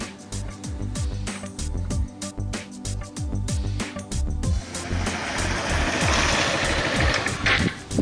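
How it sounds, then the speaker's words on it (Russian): A motorcycle engine running nearby, a loud, steady, buzzing drone with rhythmic pulsing that continues throughout, growing rougher and noisier toward the end, with no talking. "Катаюсь на мотоцикле."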